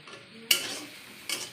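Flowers frying in a pan with salt and oil added, heard as a quiet sizzle broken by two sharp scraping strokes of a spatula against the pan.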